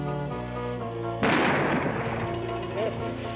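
One sharp, loud gunshot cracks and echoes over a musical score during a shootout in a 1970 western TV drama.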